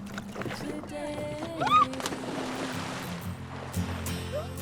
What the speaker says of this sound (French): moi je rame sur l'étang Saint-Hubert